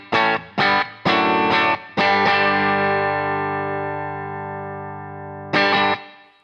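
Brunetti Mille CR electric guitar on its bridge humbucker through a clean channel: a run of sharp strummed chords, then one long chord ringing and slowly decaying before a final strum, played alone.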